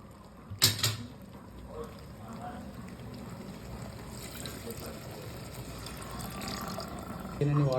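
Water splashes and trickles into mutton curry in a pressure cooker, a steady running pour with a sharp clatter near the start, fairly quiet and close.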